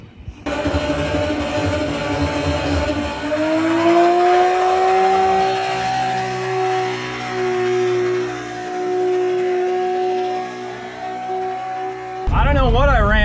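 A drag racing car launches down the track with a loud, rising engine roar that climbs and holds in pitch, heard from nearby and ending abruptly.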